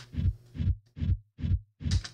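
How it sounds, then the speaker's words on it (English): A low, pulsing synth kick gate rumble, heard on its own, throbs in five rhythmic swells, soft and muffled, with brief gaps between each pulse. "So the kick gate on its own will sound like this"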